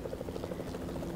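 Helicopter in the video game Fortnite, a steady rapid rotor chop with a dense thrumming engine drone, fairly close and continuous throughout.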